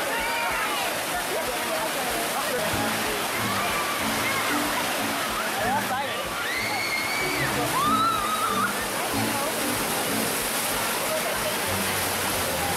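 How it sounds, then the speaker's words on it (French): The waterfall of the natural water slide in Brevard, pouring about 41 litres per second, roars in a loud, unbroken rush of splashing water from start to finish, with voices faintly audible in the background. "la cascade déverse pas moins de 41 litres d'eau par seconde, d'où cette force de courant qui vous entraîne."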